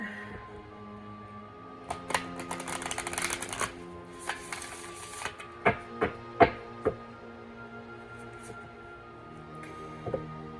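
Moon oracle cards are shuffled by hand, a soft riffling flutter followed by a run of distinct tapping knocks as the deck is squared and handled, close and moderately quiet with no speech.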